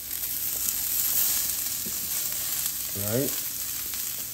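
Vegetables sizzle in olive oil on a hot Mongolian barbecue grill, a steady close frying hiss with a brief voice over it.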